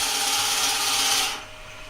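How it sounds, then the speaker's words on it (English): A very large Forstner bit bores into wood on a lathe, a steady close grinding hiss that suddenly drops to a quieter rumble partway through. "there's no need to rush this because this is a very large Forstner bit"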